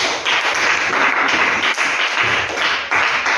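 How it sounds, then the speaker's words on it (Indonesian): Steady, dense applause from a group gathered in a church setting, loud and continuous for several seconds with no talk over it. "Tepuk tangan untuk kelompok."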